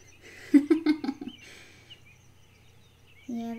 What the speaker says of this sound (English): Yeah, the bird sounds so pretty.